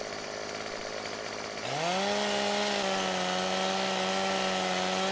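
A chainsaw in Farming Simulator 2017 revs up abruptly and holds a loud, steady high whine while trimming branches off a felled tree, heard alone without talk.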